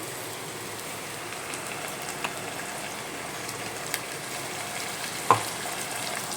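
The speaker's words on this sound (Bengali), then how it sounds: "দিয়ে এবার ভালো করে নেড়ে নেবো।" Onions frying with ginger-garlic-green chilli paste for mutton curry give a faint, steady sizzle with a few light scrapes and one sharper clink as the pan is stirred.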